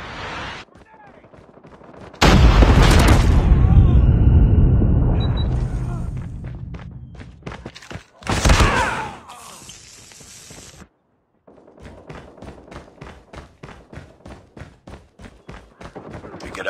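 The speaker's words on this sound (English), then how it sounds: "Be advised, hostile predator missile inbound." In Call of Duty Mobile squad play, a hostile predator missile slams in with a loud, heavy boom, followed by bursts of rapid automatic gunfire, a short silence, then a steady series of evenly spaced gunshots.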